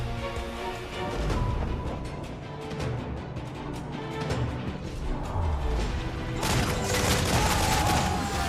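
Ship cannons boom in a naval battle in Assassin's Creed Freedom Cry, loud overlapping blasts and crashes over dense battle noise, with a sharp new volley late on.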